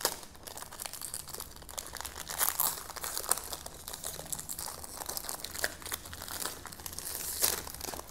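Packaging for a Bulgari Man Wood Essence perfume crackles and crinkles steadily up close as the box is unwrapped, with bursts of rustling and tearing and no talking.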